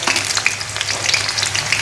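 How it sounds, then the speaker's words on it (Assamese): Sliced onions sizzle loudly in hot oil in a kadai heated over a gas flame, a steady close crackle with bright spitting pops throughout and no voices. "এয়া মই পিয়াজখিনি দি দিছো ইয়াত"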